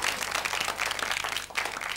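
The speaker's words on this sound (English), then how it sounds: "a round of applause for her pronunciation" A studio audience gives a round of applause on a radio phone-in show: dense, steady clapping from many hands, close and loud, filling the whole stretch without talk over it.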